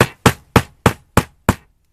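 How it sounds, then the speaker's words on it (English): Hammer blows on a wooden bird feeder, six sharp strikes evenly spaced about a third of a second apart, close and loud with quick decay, no talking. "You can't talk and hammer at the same time."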